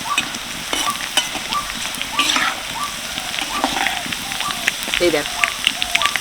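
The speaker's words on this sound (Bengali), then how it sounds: "এবার এটাকে একটুখানি ভালো করে ভেজে নেব" Gram flour batter drips through a perforated ladle into hot oil as boondi, crackling and sizzling densely throughout, with scattered sharp pops and spatters close by.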